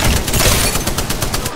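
Rapid gunfire in the battle royale game Apex Legends, a quick string of close, loud shots in a fast rhythm.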